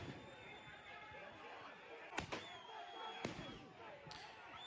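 Several sharp bangs ring out a second or so apart over a steady crowd roar and shouting, like fireworks going off nearby in a noisy street, as fireworks are launched at police during a riot.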